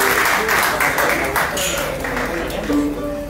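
A tango quartet's audience claps at a milonga, a broad wash of applause rolling through the room with some music or chatter mixed beneath it.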